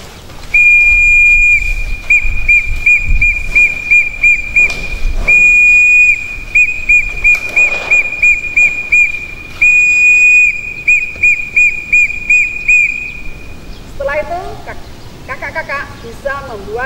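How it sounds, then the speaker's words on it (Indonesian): A scout's whistle gives an assembly signal code: shrill, steady high-pitched blasts in long and short bursts, sounding up close for over a dozen seconds, with a faint background murmur and some chirpy sounds near the end. "Dengan peluit, contohnya. Dengan kode berkumpul dulu kakak-kakak."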